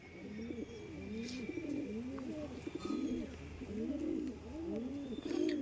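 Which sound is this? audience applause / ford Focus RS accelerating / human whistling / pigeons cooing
pigeons cooing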